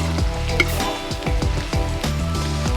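Crushed garlic pieces sizzle and crackle in hot oil in a pan for Andhra village-style fish curry, steady frying with small pops, close and clear.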